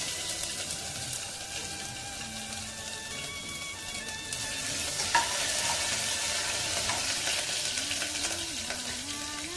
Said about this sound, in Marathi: मोहरी आणि जिरे टाकून घ्यायची. मस्त कडकडू द्यायचं तेल.